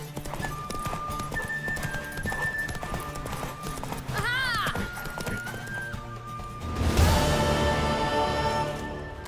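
Horse hooves clip-clop in a rapid galloping rhythm in a video game, close and steady, with a whinny partway through and a sudden loud whoosh near the end, alongside game voices.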